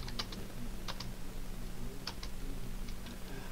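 Computer keyboard keys tapped while entering a command in Rhino 3D modeling software, a few close, crisp clicks in small clusters over a low steady background hum.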